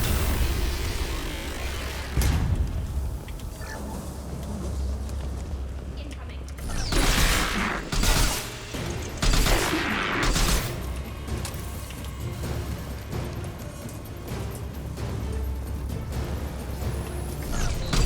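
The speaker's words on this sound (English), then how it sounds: "Taking heavy fire!" Heavy gunfire in Mass Effect 2's Project Overlord DLC: a rattling, sustained barrage of shots and bursts, loud and close, clustered around the middle of the stretch with a low rumble throughout and occasional voices mixed in.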